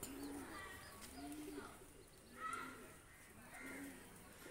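A male Firozpuri pigeon coos softly in low, rolling phrases repeated about four times, faint and close with a little background chirping.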